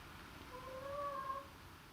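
A house cat lets out a single soft, drawn-out meow, fairly faint against a quiet background hum.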